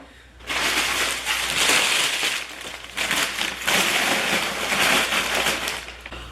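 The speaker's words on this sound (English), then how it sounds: "I'm not very good at wrapping glass" Glass items being wrapped for packing, loud crinkling and crushing of wrapping material in long bursts after a quiet start, close and continuous with brief pauses, no talk.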